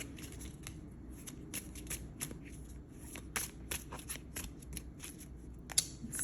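Tarot cards handled and shuffled at close range, a quiet run of crisp riffling flicks and soft slides in an irregular rhythm over low room hiss.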